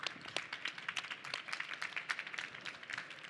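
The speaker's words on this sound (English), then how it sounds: "Can we get a round of applause, please?" An audience at an event-tech conference stage claps after an interview, the applause fairly faint and distant with a light, uneven patter of hands and no talk.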